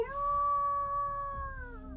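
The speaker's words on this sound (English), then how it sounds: "Another stock werewolf howl." A stock werewolf howl sound effect: a single long, tonal, wavering cry that holds steady then bends downward near its end, loud and close, with no voices.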